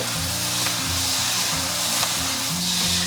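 Pork belly stir-fried in an iron wok with caramelized rock sugar sizzles steadily and loudly, with faint scraping and clinking from stirring throughout.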